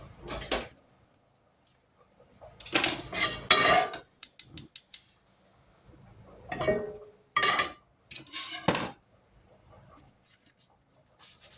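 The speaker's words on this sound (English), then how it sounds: "Now to this skillet, I'm going to add 1 pound of hamburger meat." One pound of 85/15 hamburger meat goes into a skillet amid clattering pans and utensils, a quick series of metallic taps, and short bursts of sizzle separated by quiet gaps.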